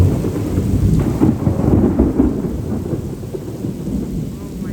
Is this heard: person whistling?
no